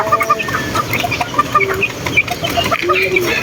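Many chickens cluck and chirp in a noisy farmyard, with overlapping calls close by, including high peeping from chicks, over a constant busy background.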